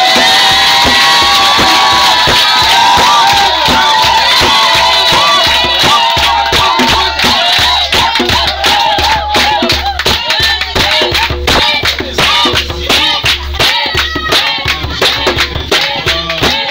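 A church congregation cheers and claps loudly, acclaiming Jesus, with rhythmic clapping, shouts and whoops building into a dense, sustained roar of applause.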